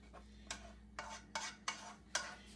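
Cooked sausage being stirred in a pan, heard as a handful of soft scraping strokes at an uneven rhythm, close but quiet, with no voices.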